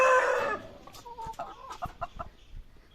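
Chickens on a backyard poultry farm cluck in a short series of nearby calls, opening with a louder, drawn-out crowing cry before softer clucks follow.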